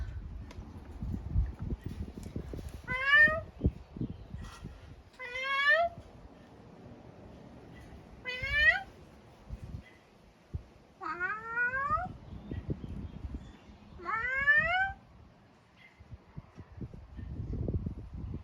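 A cat meows five times in a row, clear and close, each call a rising-falling cry a couple of seconds apart, with soft rustling of dirt being moved between the meows.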